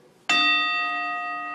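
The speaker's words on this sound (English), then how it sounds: "The point is to try and hit the bell down here." A bell struck once rings out with a sharp clear strike and a sustained metallic tone that slowly fades, close and alone, during acolyte training.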